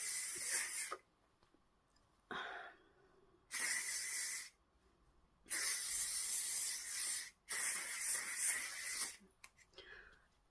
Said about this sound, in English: So the hairspray I'm going to use is the L'Oreal Paris Elnet Strong Hold one.